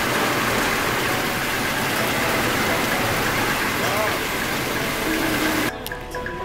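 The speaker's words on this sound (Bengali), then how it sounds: "প্রচুর জোরে বৃষ্টি হচ্ছে, একদম ধোঁয়াশা হয়ে যাচ্ছে" Heavy rain pours down on a street, a dense, loud, steady hiss of downpour that fills everything before dropping away abruptly near the end.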